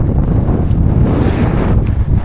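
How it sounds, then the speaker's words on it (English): Strong gusts buffet an outdoor microphone during a solo hike of the Yorkshire Three Peaks in harsh weather, producing a loud, continuous low rumble that swells and dips with no speech. "Bit windy, so if you can't hear me on the mic, apologise"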